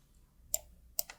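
Two quiet, crisp mouse clicks on a software button in an accounting program, spaced about half a second apart, the second followed by a faint echoing tick, against near silence.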